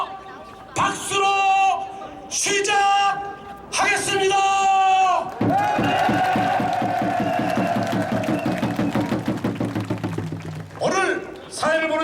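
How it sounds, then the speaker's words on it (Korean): At an outdoor rally against the discharge of Fukushima radioactive wastewater into the sea, a crowd cheers and claps over a sustained tone. Amplified speech comes before and after the several seconds of noisy cheering. "뜨거운 함성과 박수로"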